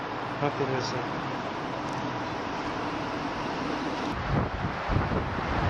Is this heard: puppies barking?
no